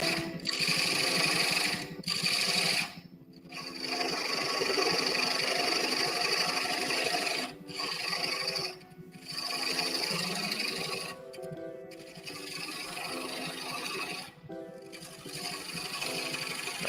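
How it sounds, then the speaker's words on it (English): A wood lathe runs steadily while turning a ladle chuck, giving off a sustained motor whine and hum. The sound drops out briefly several times as the tool is lifted or the machine pauses. "Turn the lathe back on behind the tool rest, and I'm back to turning at the RPM."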